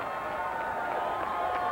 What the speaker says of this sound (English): The cheerleaders are doing their job as they've got this crowd fired up.